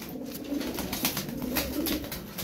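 Pigeons coo in a loft, low soft calls repeating close by over a light rustling background, with no talking.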